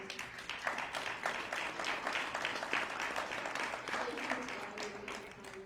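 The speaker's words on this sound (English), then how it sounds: "I'd like to give them a big round of applause." An audience at a community meeting on the West Lake Landfill gives the Just Moms a round of applause, a sustained, moderately distant clapping from a crowd with a faint voice near the end.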